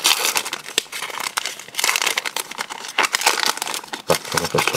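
Loud, close crinkling and tearing as tape is peeled off packaging in several rough, uneven pulls.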